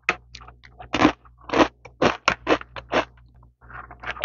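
Truffle potato chips from Daiso are crunched and chewed close to a wired microphone. About nine crisp, distinct bites land in an uneven rhythm, separated by brief quiet pauses.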